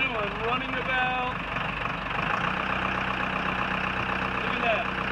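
A workboat's inboard engine idles in gear with a steady low throbbing rumble and a mechanical knock, close and loud. The tone shifts partway through as the gear engages, and a voice talks over the engine.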